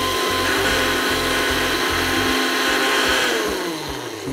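A blender whirs loudly as it mixes egg, oil and half a lemon's juice into a sauce. The motor runs steadily, with pulsing low churning for a few seconds, then eases and winds down near the end.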